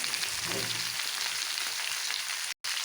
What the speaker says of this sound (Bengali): এখন এই এঁচড় আলুটা ভালো করে ভেজে নেব